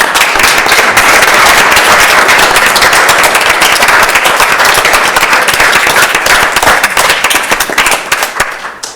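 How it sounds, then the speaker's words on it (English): A loud, dense round of applause from an audience of families at a February 2024 ceremony, steady and sustained before tapering slightly near the end. "So a round of applause to the families as well."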